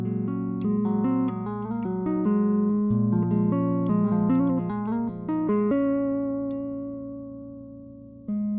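A handbuilt bass guitar played through its neck pickup gives a warm, lush tone as a melodic solo line of quick notes and chords, ending on a long sustained note, played alone.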